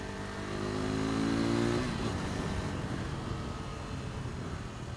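A KTM RC390 motorcycle pulls away, its single-cylinder engine revving up through the first gear with a rising whine, then shifting into a steadier rough drone with wind rush, close to the rider.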